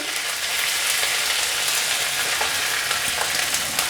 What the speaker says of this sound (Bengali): আদা দিয়ে একটু মিশিয়ে নিচ্ছি